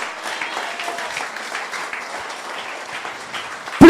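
A church congregation at a French-language service applauds loudly and continuously, a dense, close wash of many hands clapping without pause, with a sharp sound at the very end.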